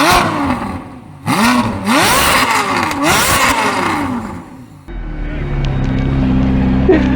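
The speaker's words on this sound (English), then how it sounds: "Now I'm going to wreck this Ferrari 430 from Autogrid with the FI exhaust, and you guys should listen to this thing because it's mad." A Ferrari F430 with an FI exhaust revs hard in a few loud, sweeping bursts, each rising then falling in pitch. After them comes a steadier, lower engine drone close by.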